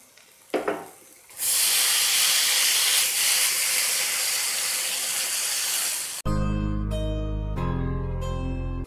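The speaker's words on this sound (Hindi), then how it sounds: "पैन को हल्का सा गर्म करके उसके ऊपर चिकन पीसेस को रख रही हूँ।" Marinated chicken pieces laid into a lightly heated pan for shawarma, a brief clatter followed by a loud, steady hiss of sizzling that holds for several seconds before music cuts in.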